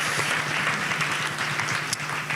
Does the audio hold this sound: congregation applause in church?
yes